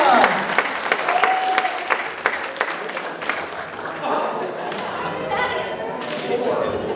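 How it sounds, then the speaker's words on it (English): A crowd at a trivia night at a cultural center breaks into a round of applause for a winner, dense clapping that is loud at first and then tapers, with voices and chatter mixed in. "Everybody give a round of applause for Regina."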